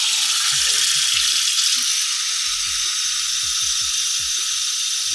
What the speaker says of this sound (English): I don't know if you can hear me with the water on.